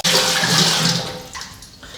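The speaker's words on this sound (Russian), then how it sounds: "наливаем 4 литра воды" Four litres of water poured in a strong, steady gush that splashes loudly at first, then thins and quiets toward the end, with no talk.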